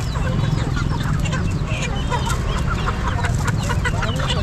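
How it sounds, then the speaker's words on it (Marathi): Desi gavran chickens cluck and call at a busy goat and sheep market in Chakan, Maharashtra, a dense steady chorus of hens over constant crowd murmur and low rumble. "हे बघा, हे गावरान कोंबड्या आहे"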